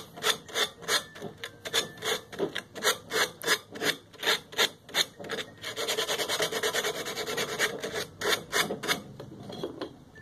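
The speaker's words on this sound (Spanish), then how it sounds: "necesitas un pedazo de lija para poder quitárselo y que te quede suficientemente limpio" A freshly cut metal pipe is rubbed with a strip of sandpaper in quick rhythmic back-and-forth strokes, close and fairly loud, with a stretch of faster continuous rasping in the middle and no talking.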